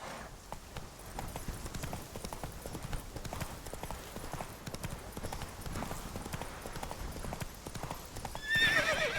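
Roach, a horse in The Witcher 3, gallops along in a steady rapid clip-clop of hooves with a brief whinny or snort near the end, all at moderate loudness with no speech.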